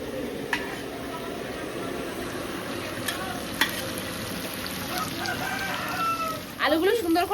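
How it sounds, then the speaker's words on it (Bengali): Potatoes frying with salt in a pan: a soft, continuous sizzle with occasional stirring scrapes and clicks, close by, and a rooster crowing in the background near the end. "লবণ দিয়ে একটু আলুটা ভেজে নিই ভালো করে।"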